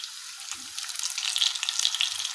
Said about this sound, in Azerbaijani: ürək, ciyarı hamısını əlavə edib burada yaxşıca bişiririk